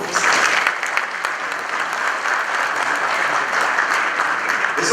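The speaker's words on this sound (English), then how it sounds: "Give yourselves a round of applause." Conference audience at the opening ceremony of a mining summit gives a full round of applause, dense and sustained clapping from many hands throughout, with no voices standing out.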